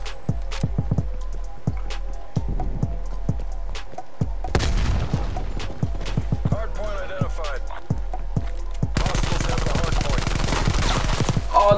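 Rapid gunfire in the shooter game Call of Duty: Cold War, with bursts of automatic shots, quieter single cracks and a dense, louder volley near the end, alongside game sounds.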